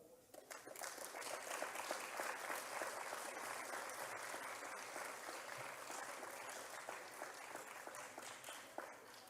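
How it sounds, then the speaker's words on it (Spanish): Soft, distant applause from a concert audience welcoming the Ballet Masters dance group from Ontinyent, a steady even wash of clapping throughout. "a quienes recibimos con un refulgente aplauso"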